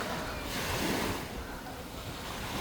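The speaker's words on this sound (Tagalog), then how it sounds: "Yung dagat natin." Sea surf washes onto Boracay beach in the Philippines on a morning beach walk, a steady broad wash of waves with some wind rumble against the microphone, continuous and moderately loud with no talk.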